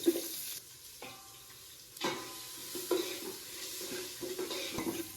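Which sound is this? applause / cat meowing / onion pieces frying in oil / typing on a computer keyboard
onion pieces frying in oil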